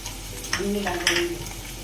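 Potatoes and onions fry in a hot pan while a spoon stirs them, giving a steady close sizzle with a few brief scraping bursts.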